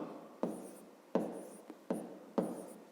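Pen strokes on paper as a math solution is written out, five distinct scratchy bursts spaced about a second apart, close and quiet, with no voices.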